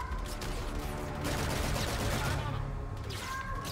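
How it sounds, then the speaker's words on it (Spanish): Enemy gunfire aimed at the player in Call of Duty Infinite Warfare, a rapid, fairly quiet burst of automatic shots rattling without a break, with a brief pause near the end. "Me disparan, me disparan."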